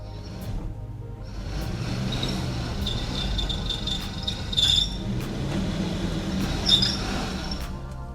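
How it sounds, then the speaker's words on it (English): A stuck 2021 Nissan Rogue in off-road mode spinning its wheels, a steady loud whirring engine drone with scraping, squealing tire noise rising briefly twice, continuous throughout. "Got a lot of wheel spin there."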